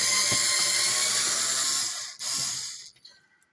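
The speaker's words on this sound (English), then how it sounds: "what I'm going to do now is take all the screws off around the edge" A powered screwdriver backs screws out of the edge frame of a motorhome skylight, a steady high whirring that stops, restarts briefly, then winds down into quiet clicks.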